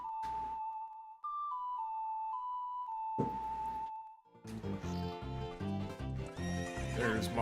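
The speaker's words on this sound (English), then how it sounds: "There's my horse." The horse Epona in the Ocarina of Time 3D game neighs twice between short ocarina-like melody notes, then a clip-clop trotting sequence with game music follows, clean and loud.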